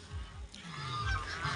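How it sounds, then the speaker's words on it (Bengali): Geese honking in a village park, a few loud nasal calls close by over light background noise. "ওয়াও, রাজহাঁস,"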